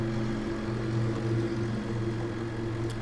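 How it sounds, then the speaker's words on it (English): A steady low motorcycle engine drone with a humming, tonal rumble, constant throughout as it goes by outside, muffled and moderately loud, no voices. "that's a motorcycle going by outside"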